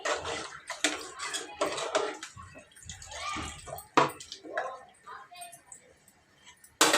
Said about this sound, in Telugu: ఇంకా తగినన్ని నీళ్ళు పోసేసి కుక్కర్కి మూత పెట్టేస్తా